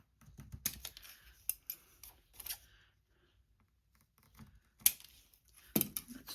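Scissors snip through paint strips being trimmed for a tall paper tag, a few sharp close cuts in short bursts separated by quiet pauses.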